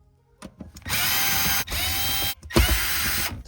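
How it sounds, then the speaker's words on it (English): A 1/2 inch ratchet with a 14 mm socket, used while removing an Acura TL Type S fuel pump, whirs in close, loud runs of rapid clicking with brief pauses between them. "put a 1/2 inch ratchet on there"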